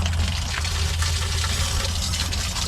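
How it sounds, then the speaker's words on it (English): Water gushes steadily out of a small drain hole in an outdoor pipe, just above the water line, as the pipe empties after being shut off. It is a continuous close rush with no pauses. "It's got a hole down there, but just above the water line. And so it drains down every time I shut it off."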